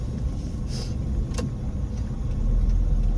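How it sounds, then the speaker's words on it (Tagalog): Heavy road traffic on a busy morning street, a continuous low engine hum and car noise with a few brief sharp clicks and a short whoosh, steady and moderately close. "Super traffic, my god."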